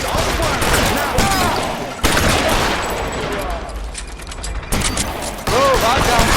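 Gunfire in the 1940s Los Angeles crime game LA Noire, loud rapid volleys of shots that break off and resume in bursts, near and harsh, with voices shouting in between.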